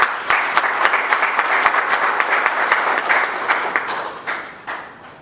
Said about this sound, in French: je vous prie s'il vous plaît d'applaudir très fort